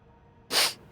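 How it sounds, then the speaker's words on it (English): A single short sharp sneeze, close and fairly loud, bursting out abruptly and trailing off quickly. "Sneeze."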